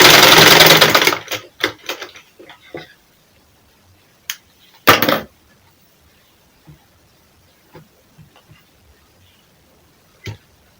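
A sewing machine stitches a dart on a garment in a loud burst at the start, followed by scattered clicks and taps of handling fabric and a few brief sharp knocks in an otherwise quiet room.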